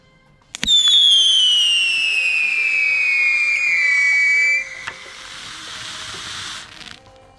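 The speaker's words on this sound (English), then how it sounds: "And here's the last rocket." A model line rocket ignites with a sharp pop, then a loud, close whistling hiss that slowly falls in pitch for about four seconds. It ends in an abrupt crack and leaves a softer fading sizzle.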